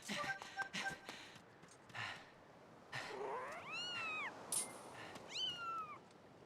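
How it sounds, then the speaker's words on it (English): Cats meow several times in The Legend of Zelda: Skyward Sword, their rising and falling cries clear over quiet game ambience with scattered soft taps and clicks. "The cats aren't monsters anymore, and there are no monsters on the island anymore."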